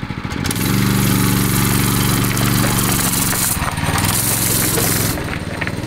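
A 6.5 HP lawn mower engine fitted to a sport bike chugs loudly and steadily nearby, its pitch dipping and rising briefly midway before settling, with no talk over it.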